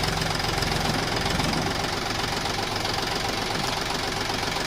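A tractor engine runs steadily at close range, a continuous loud knocking diesel rumble with no pause across the clip.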